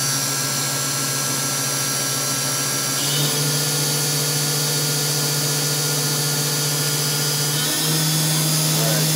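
A Fadal VMC40HT CNC machine spindle spins at 10,000 RPM, a steady loud whine with a constant tonal hum that shifts pitch slightly as the speed settles.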